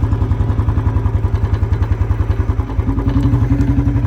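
A Royal Enfield Bullet motorcycle thumps along with its distinctive rapid, even single-cylinder beat, loud and close throughout with a slight shift in tone partway through.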